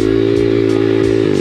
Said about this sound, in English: Clutch is in, bike is leaned over, revs go up, and we're gonna let go of the clutch.